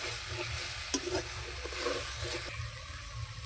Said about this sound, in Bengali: আবারও ভালো করে কষিয়ে নিচ্ছি।